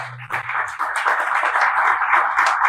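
A church congregation applauds in a sustained burst of dense, close clapping that builds quickly and continues steadily without talk.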